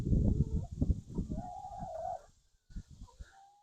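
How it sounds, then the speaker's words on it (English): Several birds of mixed kinds clucking and cooing together inside a new coop house, close and fairly quiet, with irregular short calls and one drawn-out tonal note before a brief pause. "we could try to incorporate all these birds together, just to see if they can play nice together"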